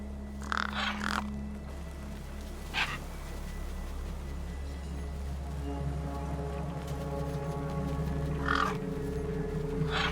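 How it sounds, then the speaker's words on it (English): Crows caw in harsh, separate bursts over a body propped against a rock in the Beyond a Steel Sky video game, with a steady low hum and ambient tones beneath. "The gang birds were eyeing up the corpse hungrily."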